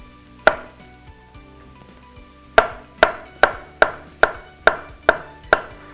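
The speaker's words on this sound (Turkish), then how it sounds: "Şimdi sonuncu da doğrayayım." A knife chops vegetables on a cutting board: one sharp chop, a pause, then seven steady, evenly spaced chops, close and crisp.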